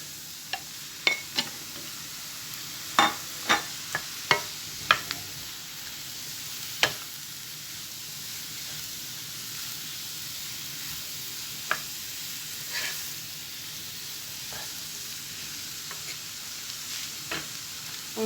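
Liver sizzles steadily in a hot pan, a continuous bright hiss broken by several sharp pops and crackles, loudest early on, with no one speaking.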